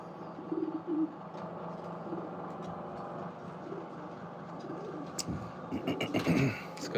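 Racing pigeons in a breeder loft give soft, low cooing calls in scattered bursts over a steady background hum, with a louder, busier cluster of coos and rustling toward the end.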